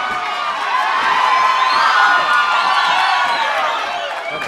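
A large crowd cheers and whoops loudly during an MMA cage fight between Anthony Shurts and Sergio Nino, a sustained roar that swells in the middle and then eases slightly.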